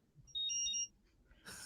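A short added electronic beep for a Spectrum radio, two quick high chirps close together and clear, followed by a brief burst of noise.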